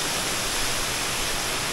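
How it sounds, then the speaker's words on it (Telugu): Constant, loud rushing roar of falling water from a remote blue waterfall in forest country, close and steady with no talk. "వాటర్ ఫాల్ చూసారు కదా, చాలా బ్యూటిఫుల్గా ఉంది నిజంగా"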